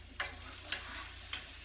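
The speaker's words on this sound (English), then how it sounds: "can you hear that sizzling? I love that sound." Brussels sprouts sizzling in a pan, a faint continuous fry hiss broken by three brief stirring scrapes.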